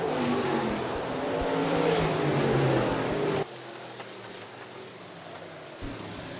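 USRA stock cars race through the final lap of a B feature at Rapid Speedway, a loud roaring engine rush that drops abruptly to a softer, more distant rumble after a few seconds.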